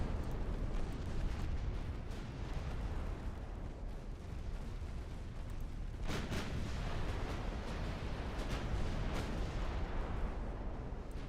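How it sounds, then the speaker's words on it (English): Seven-inch secondary guns fire in a naval battle game as repeated heavy booms over a dense, rumbling din of continuous gunfire, with a sharper burst of shots partway through, loud and sustained throughout. "These are 7-inch guns."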